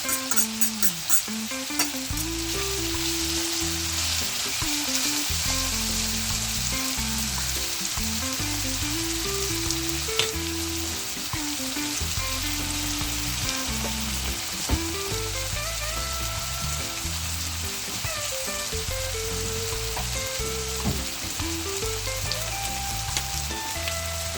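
Corned beef frying in a pan for Jamaican bully beef and macaroni, a continuous close sizzle and crackle with occasional stirring knocks, soft music running beneath and no one speaking.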